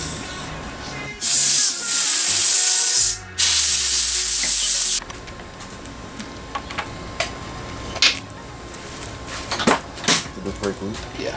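Compressed air blasting off engine parts during a cylinder head removal: two loud, steady bursts of hissing air, the second following a brief pause, then quieter shop sounds.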